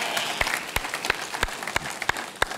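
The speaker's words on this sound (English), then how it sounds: "Give a round of applause for Alaska right there" An audience applauds at a church gathering, with sparse, distinct claps ringing out in an uneven rhythm at moderate distance as the clapping thins out.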